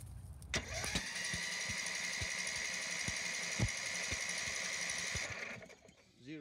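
An old riding lawn mower, recovered from mud in the woods with zero compression, is cranked over outdoors: a steady mechanical whirring churn holds for about five seconds with a few sharp clicks and knocks, then winds down and stops.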